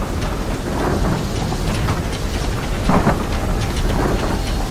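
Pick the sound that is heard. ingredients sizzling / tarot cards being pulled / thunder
thunder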